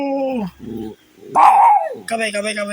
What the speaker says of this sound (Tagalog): Ganyan yung aso mga ka-JM. Pag may nakikita, kumakahol